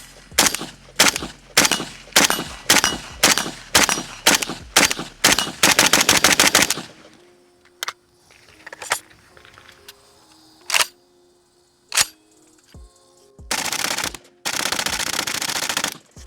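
A Pioneer Arms 5.56 AK sporter rifle fires suppressed in a rapid string of about ten sharp shots, followed by scattered single reports, metallic clicks and handling noise, then a final quick burst, all close and loud outdoors.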